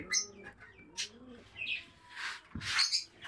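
Soft pigeon coos and chirps come and go in short bursts, close by and fairly quiet, with no talking.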